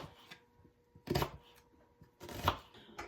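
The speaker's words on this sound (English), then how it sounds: "go ahead and cut up the onion" A knife cutting up an onion on a board, two short bursts of quick chopping strokes separated by quiet pauses, close and fairly soft.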